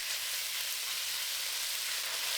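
Marinated beef hits very hot oil with garlic and grated ginger and gives off a loud, steady hiss of sizzling that stays close and continuous throughout, with no voices.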